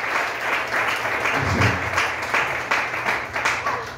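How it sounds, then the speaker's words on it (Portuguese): A church congregation claps during a family worship service, with rhythmic, moderately loud applause pulsing at a steady beat throughout. "Suas palmas para o Senhor."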